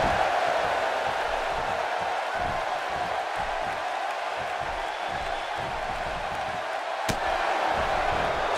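Simulated arena crowd noise in the WWE 2K18 wrestling game, a steady loud roar of cheering spectators with rhythmic clapping or stomping underneath and one sharp hit near the end.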